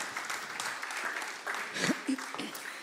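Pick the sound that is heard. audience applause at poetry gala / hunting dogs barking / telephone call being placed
audience applause at poetry gala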